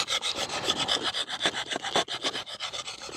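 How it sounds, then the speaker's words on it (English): A steel secateurs blade is rubbed over an oiled sharpening stone in quick, rhythmic rasping strokes, close and steady with no talk. "so let's just rotate round on that sharpening stone"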